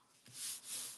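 A paper fold is burnished with two quiet, close rubbing strokes, each a soft brushing swish rising and fading, with no talk.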